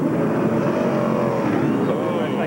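A smoking NASCAR stock car engine running rough in the pits at the 2001 Cracker Barrel Old Country Store 500 makes a loud, continuous, dense roar, with background racetrack noise and possible talk underneath.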